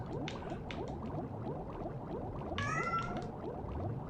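A cat meows faintly once in the background, a short tonal call over a constant bubbling, gurgling wash of noise.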